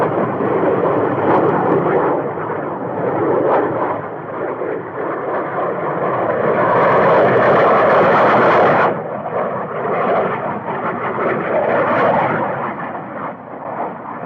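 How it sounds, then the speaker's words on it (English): Jet fighter planes in combat rumble and roar as a dense film sound effect, with a sustained low engine drone, booming blasts and a loud surging swell midway, no voices. "our jet fighter planes have already engaged the enemy"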